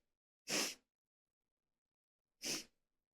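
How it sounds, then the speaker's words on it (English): Two sharp sneezes, about two seconds apart, close and loud, with silence between them. "Oh my god, I gotta sneeze."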